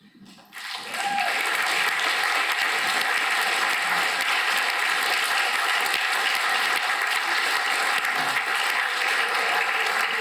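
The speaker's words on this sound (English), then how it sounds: "They deserve a round of applause." An awards presentation audience breaks into a sustained round of applause for modelling competitors and scholarship recipients who are standing. The steady, full clapping swells in within the first second and continues evenly to the end.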